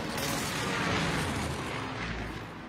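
An airstrike explodes in a video game, a dense, heavy rumbling blast that holds loud and continuous for a few seconds with deep low booms running underneath.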